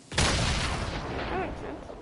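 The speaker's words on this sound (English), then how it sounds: "That's a grenade." A grenade explodes in a video game: a sudden loud close blast that sets off a long rumbling roar fading over about two seconds, with a voice briefly heard under it.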